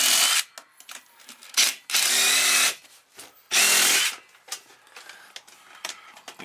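An impact driver removing bolts in a van bathroom whirs and rattles in several bursts, two of them long and loud, with short quiet gaps and small clanks between.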